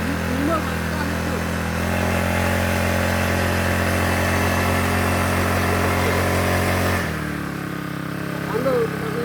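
A motorcycle engine hums nearby at a steady idle, its low drone continuing for several seconds before dropping in pitch and fading. Faint voices are mixed in.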